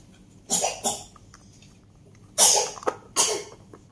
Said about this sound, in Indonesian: Siapa yang batuk?